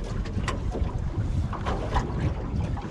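With the boat engine switched off on a fishing drift at sea, wind buffets the microphone over lapping water, a rough, gusty rush with small knocks and splashes, fairly close and steady.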